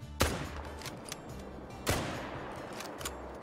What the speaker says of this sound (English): Gosh, the recoil without recoil perks is rough on the 303.